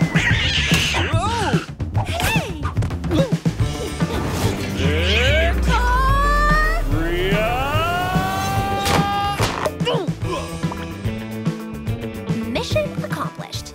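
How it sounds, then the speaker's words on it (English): A cartoon cat meows several times in a rising, wavering voice amid busy background music and effects, close and fairly loud. "Hey, guys, look, a cat."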